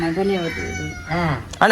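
Cat meowing while being fed fish in a home kitchen, with a few drawn-out meows mixed in among people talking nearby, close and fairly loud.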